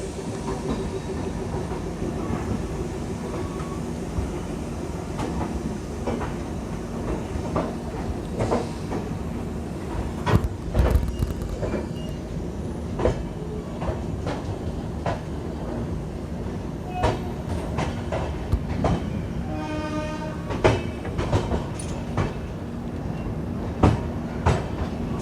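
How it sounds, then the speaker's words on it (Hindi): Jaynagar–Amritsar clone Humsafar train pulling out of Ambala Cantt station, a steady rolling rumble with scattered clicks and clacks of wheels over rail joints throughout, heard from on board without any voices. "सो गाइस हमारी ट्रेन का डिपार्चर स्टार्ट हो चुका है अम्बाला कैंट से"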